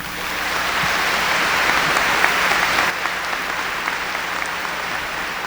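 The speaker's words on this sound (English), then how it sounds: "If we could give our student speakers another round of applause" Commencement audience applauding student speakers, a dense, steady wash of clapping from a large crowd that holds for several seconds and dips slightly near the end.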